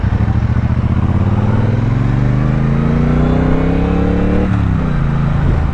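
A 2017 Triumph Bobber motorcycle engine pulling hard under acceleration, a loud, steady rumble rising in pitch through a gear, then a quick dip at the shift before pulling on again, heard close from the rider's position.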